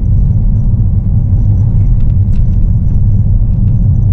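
Steady low rumble of a car driving along a countryside road, continuous engine and tyre drone from inside the cabin with no talking.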